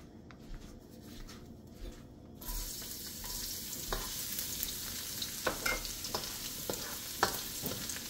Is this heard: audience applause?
no